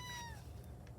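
Cats meowing in a home with several cats, a clear rising-and-falling meow near the start then fading into low background rumble and indistinct noise.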